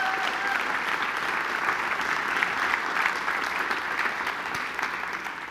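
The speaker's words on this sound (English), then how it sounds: "please a round of applause" An audience at the UpTech 6 startup demo day event gives steady, sustained applause, with a full crowd clapping at an even loudness throughout.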